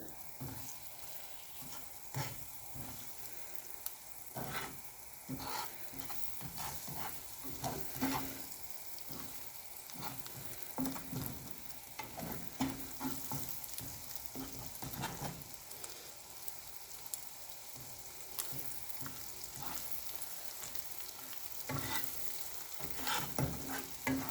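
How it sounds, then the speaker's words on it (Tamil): Eggs roast in a pan for an egg chaat, giving a faint, steady sizzle with light crackles and occasional soft stirring scrapes throughout. "இது கொஞ்ச நேரம் ரோஸ்ட் ஆகட்டும் இந்த எக்ஸு"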